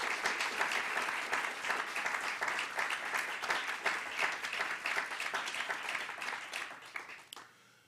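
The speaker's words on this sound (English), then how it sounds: "If you give her a great round of applause" An audience at a public health forum gives a round of applause for a panel speaker, dense clapping at moderate loudness that tapers off and stops abruptly near the end.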